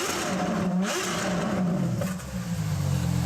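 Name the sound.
LaFerrari engine revving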